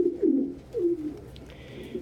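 A hand-raised pet pigeon coos close by in low, throaty bursts, two clear rolling coos with softer murmuring between, set against a quiet room.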